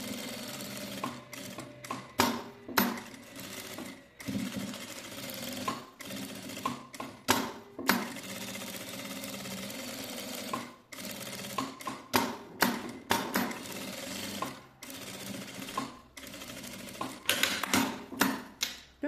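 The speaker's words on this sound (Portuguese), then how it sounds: "Agora eu vou passar uma costura aqui em toda a volta só para segurar esse tecido de forro aqui no principal" A sewing machine stitching lining fabric around the edge of a clutch bag runs in close, loud rhythmic bursts that start and stop repeatedly, with short pauses between runs.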